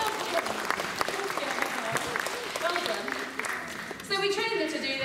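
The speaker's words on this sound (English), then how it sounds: "give her a round of applause" At a theme park and zoo show, a crowd claps for a trained animal, with steady applause mixed with talk and a voice over a loudspeaker, plus a brief musical or tonal sound near the end.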